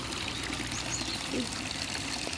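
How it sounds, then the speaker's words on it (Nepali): Water pours and splashes steadily from a borehole in a continuous gushing stream, close by, with faint talk underneath. "यो बोरिङ। यत्रो पानी आउँछ यत्रो पानी आउँछ।"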